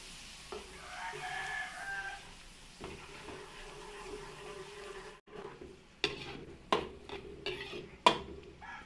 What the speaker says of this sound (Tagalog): Magigisa rin po tayo, sibuyas at bawang. Unahin natin yung bawang.